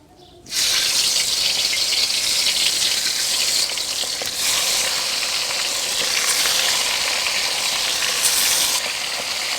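Marinated chicken drops into hot oil for street-style deep frying, and a loud, steady sizzle bursts in after a short quiet start, then roars on evenly with no one talking.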